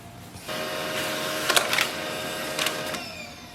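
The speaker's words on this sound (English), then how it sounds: "So let's print a document." A Pantum P2507W printer prints a document up close: a steady mechanical whir starts after a moment of quiet and runs for about three seconds, with a few sharper clicks and rattles of the paper feed along the way.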